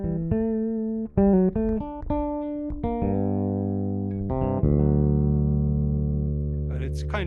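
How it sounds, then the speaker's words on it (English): A Basscraft bass guitar by Stephen McGrath plays a sequence of short, resonant notes, then a long, sustaining low note rings out loud and close. "It really sounds great, that bass."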